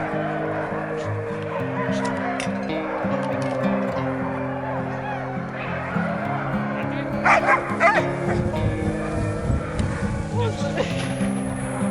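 Several sled dogs hitched to a kick sled on a wet winter day in the countryside bark, yip and whimper continuously and excitedly, close by, with a burst of louder yelping toward the end.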